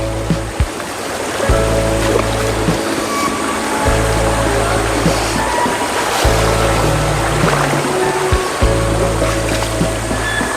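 Chintavagu, a forest stream fed by water running down from hills, flows in a loud, continuous rush and gurgle close by, with a low steady hum running underneath and no talking.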